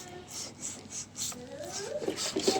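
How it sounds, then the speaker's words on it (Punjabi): A dirty rubber door seal on a fridge is wiped clean in quick, regular rubbing strokes, a soft rhythmic swishing close by, with a quiet voice murmuring partway through. "ਸਾਈਡਾਂ ਤੇ ਵੀ ਆਪਾਂ ਇਸੇ ਤਰੀਕੇ ਨਾਲ ਹੀ ਜੀ ਸਾਫ਼ ਕਰ ਲਾਂਗੇ ਰਬੜ ਨੂੰ"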